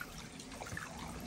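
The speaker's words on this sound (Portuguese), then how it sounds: "Não, vou colocar a água pra pegar melhor." Water poured into a country-style seasoning mix for a roast, a steady close trickle and splash of liquid running continuously without talk.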